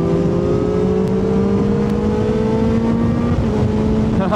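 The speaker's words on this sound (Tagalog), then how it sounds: "Parang sobrang konting bigay mo lang sa throttle is humahataw na kaagad siya." A big sports motorcycle accelerates under throttle on a breakfast group ride to Lipa, Batangas, its engine note climbing steadily in a loud, close drone with heavy wind rush.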